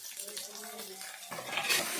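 Onions fry in a pan of oil for a village-style crab roast, a steady close sizzle that is briefly overlaid by a voice at the start and then swells as stirring goes on.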